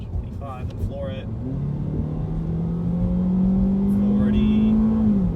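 A 2019 Ford EcoSport SES with a 2-liter naturally aspirated four-cylinder accelerates at full throttle from a roll, the engine note climbing steadily in pitch as it pulls through the revs, with brief talk early on.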